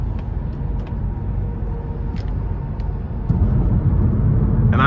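Steady wind and road rumble inside a 2021 Mazda3 hatchback with the 2.5-litre non-turbo four while driving, a low constant roar that grows slightly louder near the end, with no talking.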